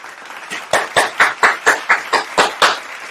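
About ten sharp, close claps in a regular rhythm as a special guest arrives, each hand strike distinct and loud.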